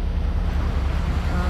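Choppy sea waves still swirling after strong winds, heard from a boat passing through a narrow rocky cut, a constant loud wash blended with blustery wind noise on the microphone.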